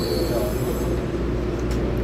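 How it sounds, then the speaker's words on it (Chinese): A Taiwan Railway EMU3000 twelve-car electric multiple unit rolls through a station without stopping, giving a loud, close, continuous rumble of wheels and motors that stays steady for the whole stretch. "134次准备通过。"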